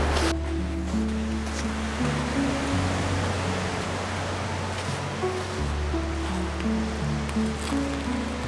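Sea waves wash steadily onto the beach at Durdle Door on the English coast around dusk, a broad continuous surf roar with faint tonal sounds underneath and no speech.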